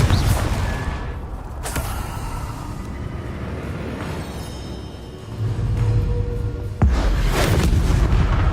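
Confringo fire spell explosions in Hogwarts Legacy, heavy booming blasts over a dense rumbling background, with a sharp burst near the start and another loud one later.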